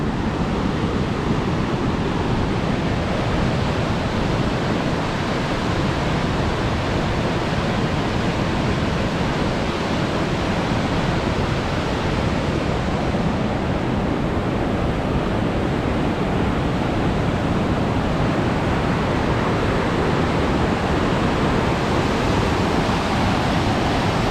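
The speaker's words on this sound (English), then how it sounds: "So we have this beautiful little waterfall here." Constant rushing of a small waterfall, a broad steady roar that stays even throughout, loud and close, with no talking.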